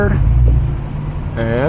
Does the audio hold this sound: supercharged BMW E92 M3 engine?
yes